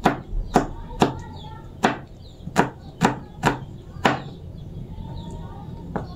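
A knife chops garlic on a cutting board in a home kitchen, with about nine sharp, close knocks at an uneven, unhurried pace and faint background noise between them.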